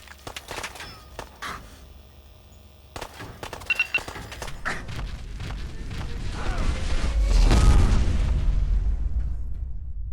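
A Lance battery artillery strike in modded Fallout 4 lands with a deep, rolling explosion that swells and rumbles for several seconds, preceded by scattered sharp pops and thuds.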